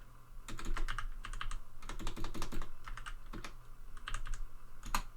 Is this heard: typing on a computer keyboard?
yes